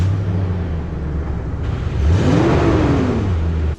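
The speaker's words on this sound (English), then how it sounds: "right here is a clip of the factory exhaust at startup and a little bit of a rev" A Toyota Tundra pickup with its factory exhaust idles steadily up close, then the engine revs up in one rising and falling sweep before settling back.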